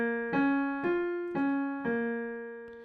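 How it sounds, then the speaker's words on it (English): Minor chord sounded note by note, four evenly spaced tones that each ring on and overlap into a sustained chord, close and clean with no voices. "Here is a minor chord."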